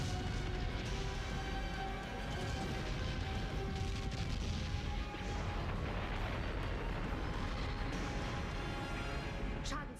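A jump gate in the science-fiction series Babylon 5 explodes with a sustained, deep rumbling roar that fills the scene at steady loudness, with occasional crackling bursts.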